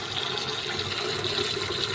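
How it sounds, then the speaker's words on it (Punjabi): Hot water from a geyser pours steadily into a bucket, a continuous close splashing rush with no talk over it. "ਬਾਲਟੀ ਚ ਲੈਣਾ ਵਾ ਗਰਮ ਪਾਣੀ"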